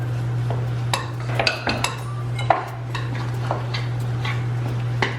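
Cake mix cookie dough being mixed in a bowl, with a utensil clicking and scraping against the bowl in scattered irregular knocks over a steady low hum, close and moderately loud.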